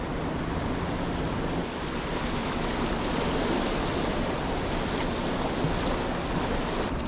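Fast-flowing creek water rushes in a steady, loud, unbroken roar close to the listener, with no speech.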